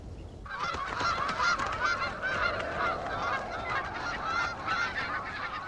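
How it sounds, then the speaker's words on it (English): A flock of migrating geese honks continuously over Alaska's Brooks Range in early June, many overlapping calls forming a steady, fairly close chorus with no talk. "The geese are nearing the end of their journey from the south."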